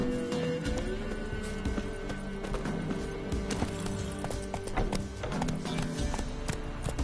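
A horse gallops in The Witcher 3 game, its hooves clip-clopping in quick, irregular beats over an ambient game backdrop, fairly close and continuous throughout.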